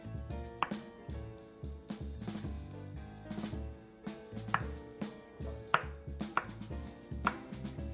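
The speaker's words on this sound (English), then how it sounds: "We're going to cut our butter into pea-sized little dots" A knife chops cold butter into small pea-sized pieces for a French apple tart, with a series of light, uneven cutting knocks over steady background music.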